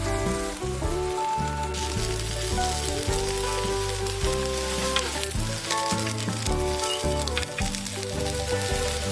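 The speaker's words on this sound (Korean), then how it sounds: "한쪽 면을 익히고 뒤집은 다음 가운데에 계란을 톡!" A potato pancake with an egg cracked into its centre sizzles loudly and steadily in a frying pan, a dense continuous crackle with no pauses, while background music plays over it.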